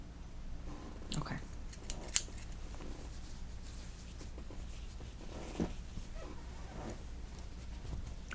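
Hair scissors snipping during a haircut in a close binaural recording, a few crisp sharp snips scattered over quiet background with soft handling sounds and faint movement.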